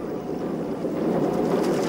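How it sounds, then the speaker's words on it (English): Cartoon steam tugboat engine starting up, a steady broadband chugging hiss that holds level and swells slightly louder toward the end, with no voices over it. "Okay, Boomer, try your engine now."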